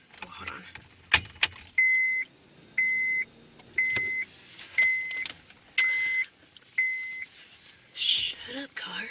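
Inside a car, a warning chime beeps six times in an even rhythm over low cabin rumble, with a jangle of keys near the start and a person speaking between the beeps.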